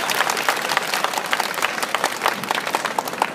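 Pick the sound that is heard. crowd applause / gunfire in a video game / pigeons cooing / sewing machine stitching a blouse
crowd applause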